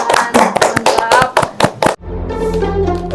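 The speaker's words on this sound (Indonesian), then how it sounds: "Tepuk tangan." Loud, close hand clapping from a small audience at a talk on marketing a fig-leaf food product, a quick burst of sharp separate claps for about two seconds, followed by a sustained hum and tone.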